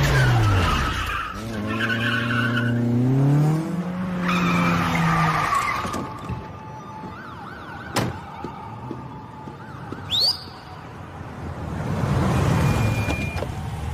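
Tyres skid and squeal loudly as a stolen car tears away, an engine revving under the screech for several seconds before fading into quieter traffic noise, with a brief sharp squeal near the end.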